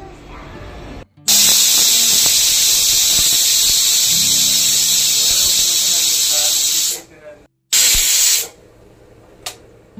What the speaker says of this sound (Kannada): ಪಲಾವ್ ಕೂಡ ವಿಷಲ್ ಹೊಡಿತಾ ಇತ್ತು.